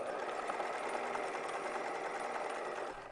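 A sewing machine stitching cotton with a Teflon presser foot, a steady fast whirring buzz running continuously at close range and fairly quiet, then cutting off at the very end.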